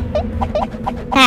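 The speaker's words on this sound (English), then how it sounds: "Ah, that's a chicken." A cartoon chicken from the video game Worms Reloaded clucks in a quick run of about six short, bright clucks, ending in a louder squawk, heard up close and alone.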